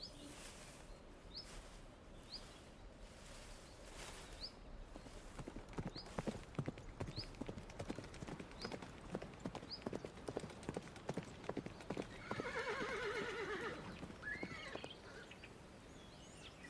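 Wild horse on open prairie and plains: a steady run of hoof clip-clops near to mid-distance, rising in strength, with a brief neigh near the end and faint birdsong behind.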